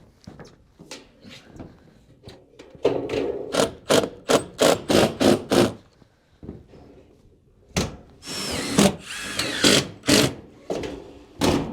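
Power tools fasten metal trim on a house roof at an off-grid build, a series of sharp, loud bursts in quick clusters separated by brief pauses.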